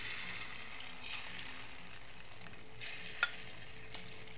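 Chicken pieces frying in oil for chilli chicken rice, a soft, steady sizzle with faint stirring scrapes and a sharp clink near the end, fairly quiet and close.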